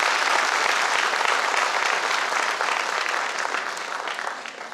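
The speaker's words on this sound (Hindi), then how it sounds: "एक बार आप सभी के लिए जोरदार तालियां।" Audience applause fills a company launch event for the KRS Multipro, a dense, steady wash of clapping heard alone that slowly fades over several seconds.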